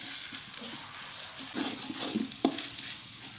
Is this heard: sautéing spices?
yes